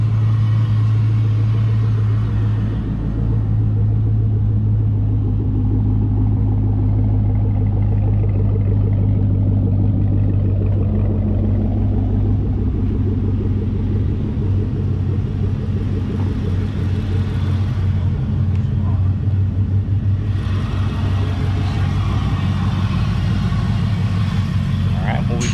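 A supercharged 2015 Camaro ZL1 idles steadily with a deep, even rumble close by, the low drone holding throughout while someone talks over it now and then.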